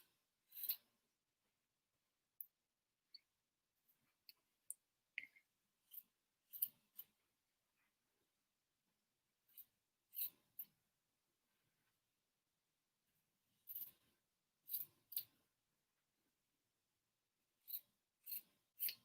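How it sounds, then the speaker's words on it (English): Scissors snip the corners of a fabric face mask, with short crisp cuts in irregular bursts separated by quiet pauses, close and fairly quiet. "So cut all my corners."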